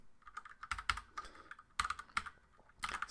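Fingers tap out a short, irregular run of clicks on a computer keyboard, soft and close, in clustered bursts with brief pauses between them.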